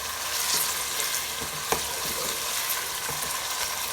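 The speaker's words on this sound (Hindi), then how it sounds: "चिकन डालने के बाद तकरीबन अब हम इसको 8 से 10 मिनट तक पकाएंगे" Chicken sizzles and fries steadily in a pan for pulao, a close, continuous hiss with a few soft stirring scrapes and clinks.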